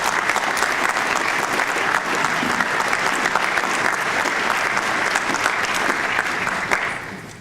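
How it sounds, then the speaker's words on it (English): Steady, dense applause from an audience at a nonprofit research bureau's annual meeting, loud and sustained throughout before tapering slightly at the very end. "Give them a round of applause."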